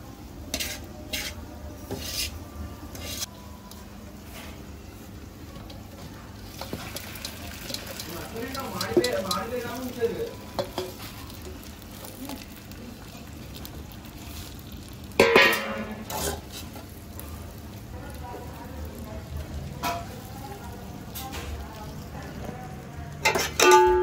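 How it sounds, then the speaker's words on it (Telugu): Chicken pieces are tipped into fried masala in a kadai and stirred, with scraping and clinking of a spoon against the metal pan over a low sizzle and background kitchen noise, with a few louder clatters. "ఇప్పుడు ఇక చికెన్ వేసి కలిపేసుకోవచ్చు."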